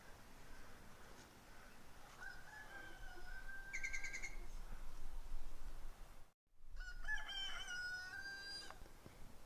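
A rooster crows twice at a distance, drawn-out calls against a quiet outdoor background, with soft clucking from chickens around.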